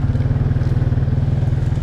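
A Can-Am Outlander 500 ATV engine chugs under way on a trail ride, a close, steady rapid pulsing throb that stays even in loudness throughout.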